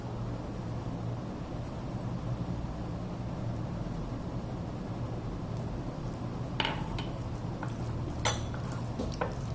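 Minced prawns being mixed with salt, red chili powder and garlic paste in a bowl, a soft steady scraping and stirring with a few sharp clinks of a utensil against the bowl toward the end.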